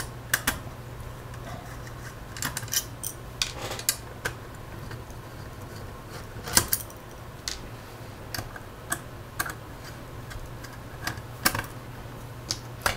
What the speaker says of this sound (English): It's just held in by four more screws. So you can unscrew those.